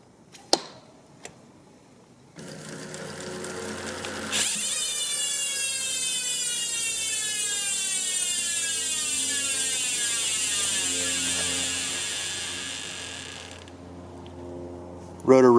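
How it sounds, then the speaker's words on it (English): The disc brake rotor on a 2021 Knolly Warden mountain bike whirs and rubs lightly against brand new pads as the wheel spins freely, a sustained close metallic hiss that fades out, framed by a few sharp clicks at start and end. "Rotor rubs a little bit."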